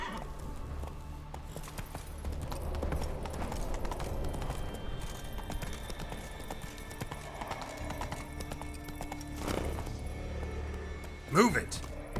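Hooves clip-clop steadily beneath a horse ridden at speed through The Witcher 3 on Xbox Series S, with game music and ambience, a brief whinny near the end and a rider's voice speaking over it.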